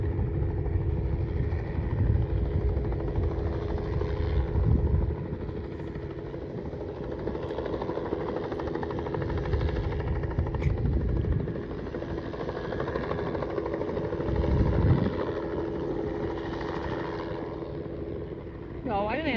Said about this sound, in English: why do they have to give me these old-timey planes all the time?